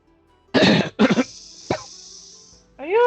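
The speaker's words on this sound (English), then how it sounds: "You see she actually coughs up blood this time." A woman coughs harshly, coughing up blood, in two loud bursts followed by a shorter hack, then a voiced breath or groan at the end.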